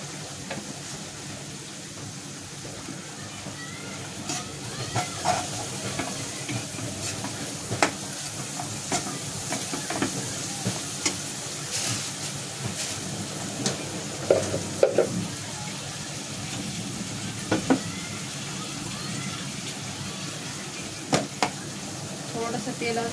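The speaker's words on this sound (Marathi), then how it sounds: "आपला कांदा फ्राय होतो" Chopped onion frying in oil with turmeric and salt, stirred now and then: a steady sizzle with scraping stir clicks throughout, close and moderately loud.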